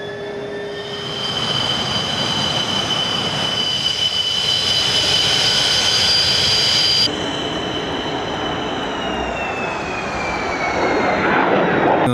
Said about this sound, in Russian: необходимо услышать шум двигателя